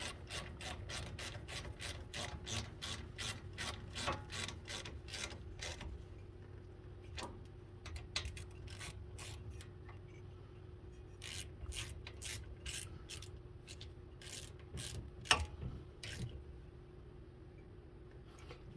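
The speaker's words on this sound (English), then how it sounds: "We're going to take our ratchet" A ratchet tightens brake bolts on a 2003 Ford Explorer Sport Trac, with rapid bursts of close, crisp clicking repeated in runs, pausing between strokes against a quiet garage hum.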